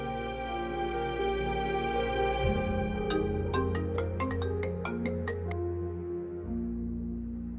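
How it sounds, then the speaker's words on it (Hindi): A phone ringtone plays a short electronic melody over a steady tonal backdrop, ringing continuously at moderate volume while a call connects. "रज़ा को फोन मिलाती हूँ।"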